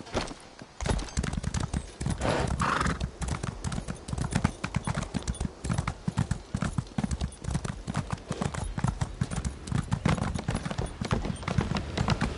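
A horse gallops in The Elder Scrolls Online, with rapid steady clip-clop of hooves continuing for several seconds, close and clear, and a brief whinny early on.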